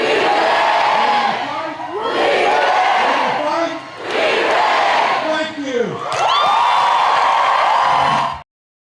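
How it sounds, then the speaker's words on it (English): A large, loud political rally crowd in Asheville cheers, whoops and chants in sustained roaring waves, with brief dips between swells and a few shouted voices rising above the mass of noise. "My team just said this is the best rally crowd we have seen"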